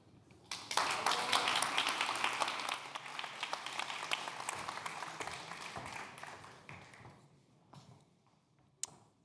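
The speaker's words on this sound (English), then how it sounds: "Applause," Applause at a sustainability festival talk: clapping swells quickly to a full, dense burst, then thins and fades toward the end, with a few isolated claps trailing off.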